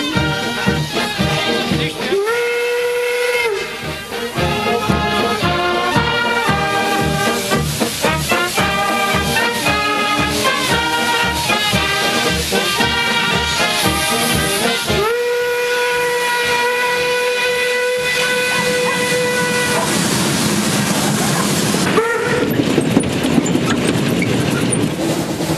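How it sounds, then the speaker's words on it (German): The last steam locomotive train of the German Bundesbahn sounds its steam whistle in three long blasts as it prepares to depart, over steady hissing steam and a busy background of other sustained tones. "ich melde Ihnen den letzten Dampflokzug abfahrbereit"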